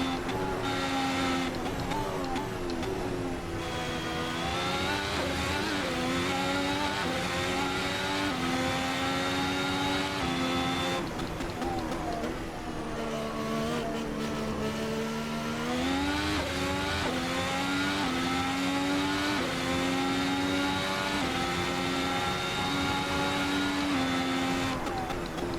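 A 2017 works Ferrari Formula 1 race car in Assetto Corsa screams at high revs on a hot lap at Imola's Rivazza corners, its engine note rising and dropping through gear changes, loud and continuous.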